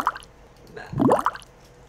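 Water poured or splashing in the indie horror video game One Late Night, a short burst of liquid plops and drips, loudest near the middle, with quieter drips before and after.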